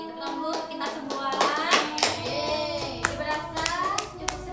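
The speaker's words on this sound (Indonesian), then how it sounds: "Tepuk tangan dulu untuk kita semua." A class of students claps their hands together in a classroom lesson, a burst of many overlapping claps lasting several seconds, loud and close, with a few children's voices mixed in.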